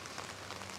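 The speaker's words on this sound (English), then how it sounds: "a little unexpected rain is happening, so they covered up the apron here with plastic" Rain patters steadily on plastic sheeting laid over a concrete apron and on old metal roofing outdoors, a soft continuous hiss with faint drop taps.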